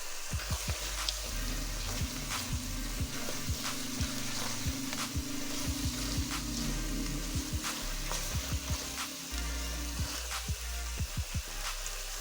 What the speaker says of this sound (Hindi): ये पालक को हम भून रहे हैं